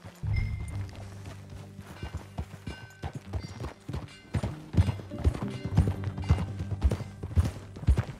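Horse hooves clip-clopping in Red Dead Redemption 2, a steady walking rhythm of close, fairly loud thuds on the ground with faint tack jingle and a brief snort.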